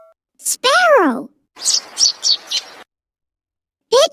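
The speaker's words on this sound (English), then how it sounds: "sparrow" A sparrow gives a quick run of four or five bright, high chirps. A brief voice sound comes just before it, and another starts at the end.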